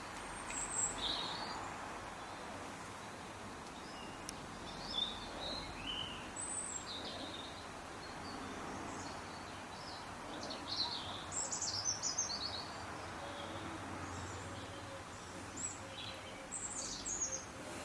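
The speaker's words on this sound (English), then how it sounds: "You can hear the bird song." Birds chirp and sing intermittently outdoors in autumn, light and fairly distant, over a soft steady background hush.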